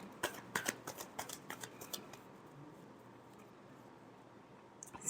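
Tarot cards are shuffled by hand in a quick run of crisp riffling snaps for about two seconds, then the sound fades to quiet room tone with a faint rustle at the end.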